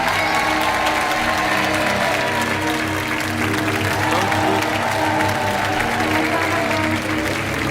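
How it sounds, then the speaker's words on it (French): A studio audience at a French game show claps steadily as contestants leave the set, with a full, continuous applause and faint cheering behind it. "on vous laisse repartir sous les applaudissements par là"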